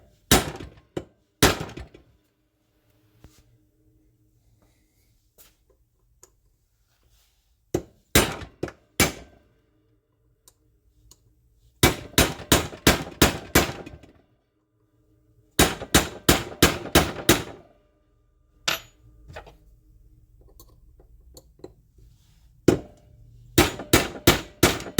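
A hammer beats a pin out of a KitchenAid stand mixer: loud, sharp metallic strikes in quick bursts of four to six blows, separated by pauses of near silence, with single isolated knocks in between.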